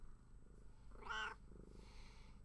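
A house cat purring softly and steadily up close, broken by one short, clear meow in the middle, with the low purr continuing underneath.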